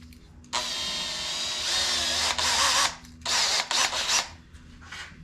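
Power drill boring holes into a board about 3/4 inch to an inch thick while building a homemade birdhouse; a loud steady whine runs for a couple of seconds, then comes in several shorter bursts.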